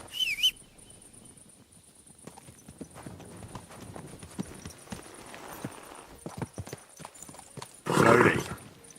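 A horse in the video game Kingdom Come Deliverance 2 walks along a road, its hooves clip-clopping in a slow, steady rhythm, with a brief whinny near the start and a loud rushing burst near the end.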